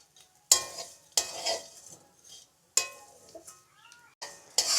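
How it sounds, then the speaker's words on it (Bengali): Lachha vermicelli frying over low heat, heard as bursts of stirring and sizzling separated by near-silent gaps, with a faint cat-like meow between them. "আপনারা অবশ্যই চুলার আঁচটা হালকা তাপে রেখে সেমাইগুলো ভেজে নেবেন"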